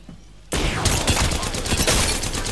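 Rapid automatic weapon fire in Apex Legends bursts in abruptly after a brief quiet moment, a loud, dense stream of closely spaced shots continuing steadily to the end.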